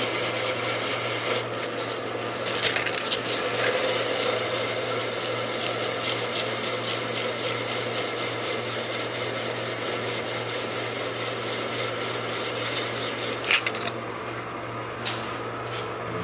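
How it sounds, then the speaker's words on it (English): Wood spinning on a lathe being sanded with 150-grit sandpaper, a continuous raspy rubbing hiss over the motor's steady hum, close and loud, briefly dropping near the end. "So I'm just going to touch this last little bit up while it's still on the lathe. The sandpaper, starting with a piece of 150."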